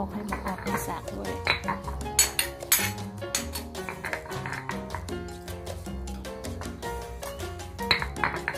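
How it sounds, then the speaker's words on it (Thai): Water with leftover sauce swirled around a mortar and pestle to rinse it: rapid clinks, taps and knocks of the pestle against the bowl, running continuously under someone talking. "ทางเหนือเราต้องแกว่งซักแกว่งครกค่ะ ล้างให้ทั่วเลยล้างออกให้หมดออกให้สากด้วย"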